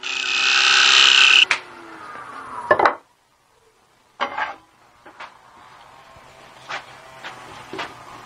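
A tenoning tool on a wood lathe cuts a 7/8 inch tenon for a twig vase, first a loud, steady screeching cut, then scattered scraping and knocking bursts of varying loudness.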